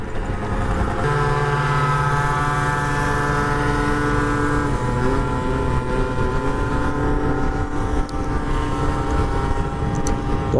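A Yamaha Aerox motor scooter rides at about 60 km/h, its engine droning loud and steady with wind noise throughout.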